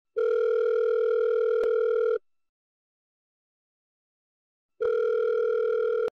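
Telephone line tone while placing a call: a loud, steady electronic tone lasting about two seconds, then silence, then the same tone again.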